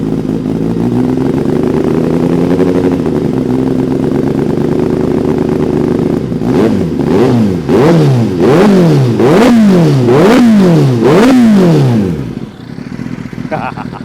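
A Kawasaki ZX25R or ZX10R sportbike engine holds a high steady drone, then gets revved hard in a series of about six sharp rising-and-falling bursts before cutting off, loud and close.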